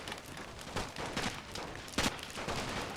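Rifle infantry gunfire in a Total War WW1 mod siege battle: a dense, continuous crackle of distant volleys with occasional louder cracks, no talk.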